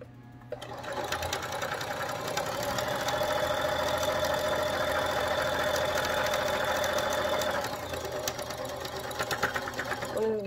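A home sewing machine stitching fabric for a simple gift bag runs at a steady, continuous whir for several seconds, loud and close, then slows and stops near the end.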